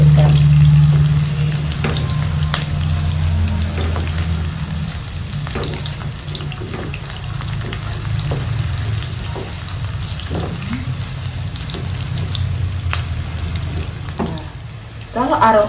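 Shallots and garlic frying in a pan for a broccoli and wood-ear mushroom stir-fry, a steady hiss over a low constant hum, with scattered clicks of stirring and a brief louder clatter near the end.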